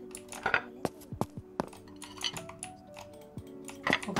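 Plates and cutlery clink and clatter as a table is set in a horror video game, with scattered light knocks, chinks and metallic taps, fairly quiet and irregular.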